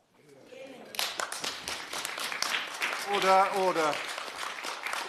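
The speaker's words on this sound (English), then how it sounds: "I'm sorry, but we're not supposed to have applause" Crowd applause in a Westminster Hall petition debate on Windrush citizens, swelling into sustained clapping and cheering from many people, with a chair calling for order over the noise.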